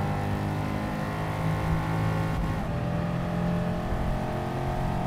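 Race cars in the video game Gran Turismo 7 roaring steadily at high revs, a loud continuous engine drone with shifting tones as the cars run close together, with no talking.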